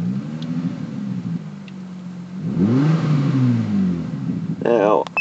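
A V6 car engine idles, then revs up once as the throttle is pressed and settles back, heard up close while someone talks over it.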